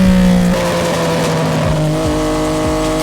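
A sportbike motorcycle pulls away loudly, its engine revving through rising and shifting tones, close and continuous for about three seconds with no talk.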